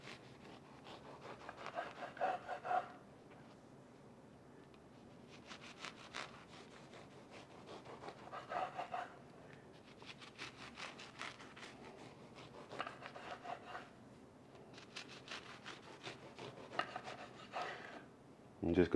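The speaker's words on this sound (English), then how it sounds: "And just continue cutting those slices until you're done with the loaf." A serrated knife saws back and forth through a thick loaf of bread, cutting roughly inch-wide slices for French toast, with repeated rasping strokes in bursts and short pauses between slices, close and fairly quiet.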